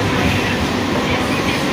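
Steady loud rumble and rattle of a moving passenger train heard from inside a carriage, a dense continuous roar with no clear speech.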